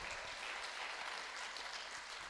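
A congregation applauds during a sermon, making a faint, even wash of clapping that holds steady throughout without any voices.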